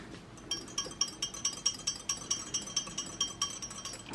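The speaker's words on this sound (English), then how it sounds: "I always use a whisk to stir it in." A whisk stirs in a container while soy wax melts are being made, giving a quick steady series of light metallic clinks, about four per second, fairly close and with no talking.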